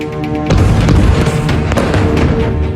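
A heavy blast from an Israeli airstrike in northwestern Gaza at night hits suddenly, then rolls on as a deep, sustained rumble with scattered further thuds. A tonal music bed plays underneath.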